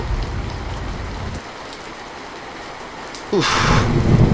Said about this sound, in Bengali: অবশেষে ঠিক বিকেল থেকে বৃষ্টি শুরু হলো, আর সাথে কালবৈশাখী ঝড়।